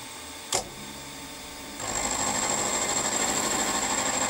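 A milling cutter spins while machining a part for a Stuart Models S50 steam engine. A sharp click sounds first, then a steady, bright motor-and-cutter whine starts and holds evenly, close and fairly loud.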